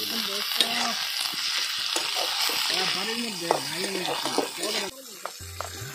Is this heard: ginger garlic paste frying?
yes